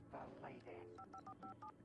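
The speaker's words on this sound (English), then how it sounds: "A phone!" Touch-tone telephone dialing in the Alan Wake video game, a quick run of about six near beeps following a short exclaimed voice.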